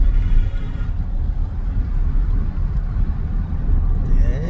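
A turbo diesel truck drives along Avenida Balboa, Panama's waterfront road, with a steady low engine and road rumble heard from inside the cab throughout and no talk.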